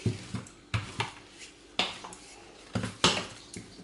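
A knife cutting yeast dough for cheese-filled croissants into triangles, a series of sharp close taps and knocks against a board at uneven intervals, with no talking.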